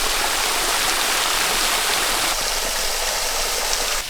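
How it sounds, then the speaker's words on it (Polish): Waterfall in Serbia with water dropping in a circular ring, a loud, steady, close roar of falling and splashing water that fills the whole clip without pause, no voices. "Woda spada w takim okręgu."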